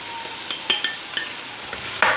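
Chicken pieces and thick, mild green chillies frying together in hot oil in a karahi, a steady close sizzle broken by several sharp scraping stirs and clinks, with a louder burst of frying near the end.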